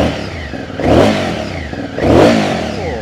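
A 2017 Aprilia Shiver 750 motorcycle engine is revved twice at close range. Each throttle blip swells into a loud roar and then settles back to a rough, steady idle, with no voices over it.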